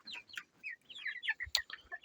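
Hens cluck and chatter continuously nearby, several birds overlapping in quick, high bursts.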